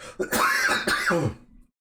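A single harsh, close cough with a rough throat-clearing quality, stopping abruptly into silence.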